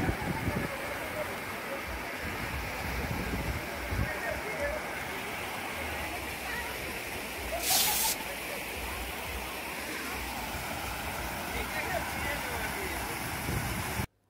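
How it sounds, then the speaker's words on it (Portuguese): Steady broadband rush of the Cachoeira Véu da Noiva waterfall in Grão Mogol, Minas Gerais, at high flood season, played back from a recording, a continuous roar with no pauses and no voices. "E agora eu vou deixar rolando essas cachoeiras aqui, que é de outros pontos da cidade, na época de cheia também"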